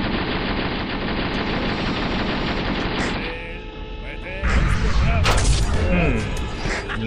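Tank machine gun fire from the video game Steel Armor: Blaze of War, with an M60A1 tank: loud sustained automatic bursts that pause briefly and then resume with heavier blasts and mechanical clatter.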